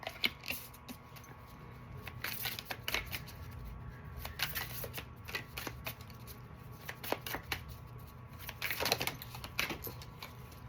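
Tarot or oracle cards being shuffled during a card reading, producing quiet, irregular riffles and soft clicks that come in short bursts at close range with no voices.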